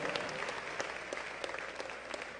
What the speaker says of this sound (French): Je vous demande d'applaudir l'arrivée de Pasteur Blackwell, mesdames et messieurs